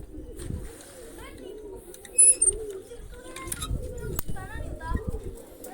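Pigeons coo softly and repeatedly close by, with a few brighter bird chirps mixed in and some low background noise.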